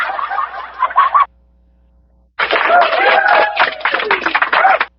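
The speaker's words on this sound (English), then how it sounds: "We have the standard like laugh and applause track." Canned applause sound cue from a soundboard, heard as two bursts of dense, close clapping and crowd noise with a short silent gap between them.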